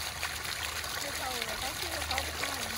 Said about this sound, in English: Actual water pumping up